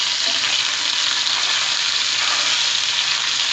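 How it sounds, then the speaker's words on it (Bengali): Hot oil hisses and spatters constantly around frying tilapia, a loud, even crackle heard close by without any voices. "কত সুন্দর কড়কড়া করে ভাজা হয়ে গিয়েছে এক সাইড"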